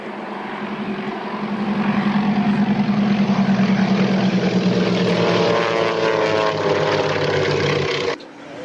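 A vintage propeller warbird at the Duxford Flying Legends airshow drones loudly overhead, the engine roar building and holding steady before cutting down sharply at the end.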